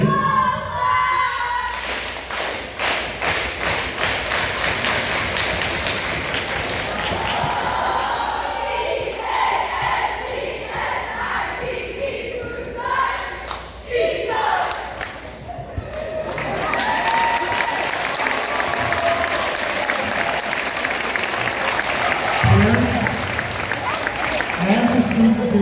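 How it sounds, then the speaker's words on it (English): Students cheering and an audience applauding at an 8th grade middle school graduation ceremony, a dense roar of clapping and shouts that runs for the whole stretch, with some thumps near the end. "leading our cheer as we get ready to leave out the doors"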